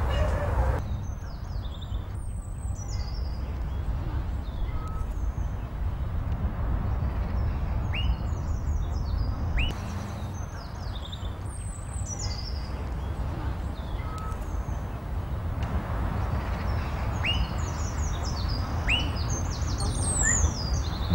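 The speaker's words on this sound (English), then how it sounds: "The shyest member of the tit family is the long-tailed tit." Long-tailed tits call in scattered high, thin chirps and short trills amid steady outdoor background noise, several birds calling on and off from a moderate distance.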